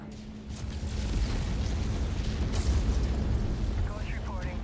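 A mech blows up in the MechWarrior 5 Clan Invasion career mode, a rumbling explosion swelling under continuous battle noise and mechanical drone, followed by crackling debris and a synthetic descending whine.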